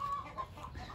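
An Australorp hen outdoors in a village gives a brief, faint clucking call, heard alone at a modest distance.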